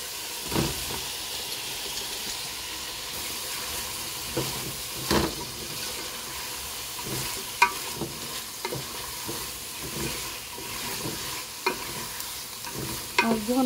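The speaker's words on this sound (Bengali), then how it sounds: "এদিকে আমি কচুও ভাজা নিছি।" Taro pieces fry in a pan beside spiced masala, a continuous oily sizzle with bursts of steam hiss and repeated scraping stirs from a spatula at irregular intervals, close-up and without talk.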